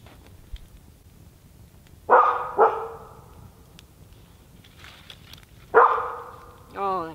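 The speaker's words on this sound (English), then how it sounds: "She can be barking all night." A dog barks at a campsite beside a fire and a hot tent: two sharp barks close together, a pause, then another bark and a shorter whining yelp, all against quiet night background.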